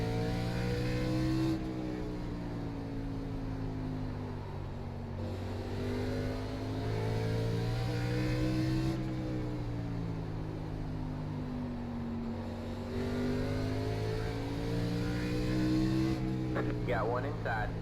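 Race car engines roaring around the South Boston oval in the iRacing sim, a steady loud drone that rises and falls with each lap as throttle lifts and reapplies, with a voice talking over it at times.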